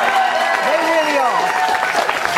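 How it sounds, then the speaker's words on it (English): A fired-up live studio crowd in New York cheers and applauds steadily in a continuous roar while someone talks over it. "We are live from New York with a fired up crowd."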